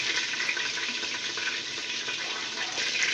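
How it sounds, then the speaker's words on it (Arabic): Cooking oil poured into a large pot already holding homemade ghee, making a steady, close hiss that runs unbroken throughout with no voices. "وبصوا هحط زيت كمان"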